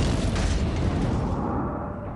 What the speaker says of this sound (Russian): Астероид обрушился на берег, известный теперь под названием полуостров Юкатан в Мексике